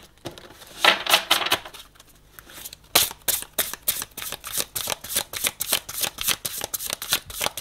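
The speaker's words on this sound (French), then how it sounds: "C'est parti, j'ai besoin d'une seule carte pour chaque jeu, Michael, s'il te plaît." Oracle cards shuffled by hand for a reading, a close, dense run of crisp riffling flutters with a short pause near the start, then a steady fast rhythm of card snaps.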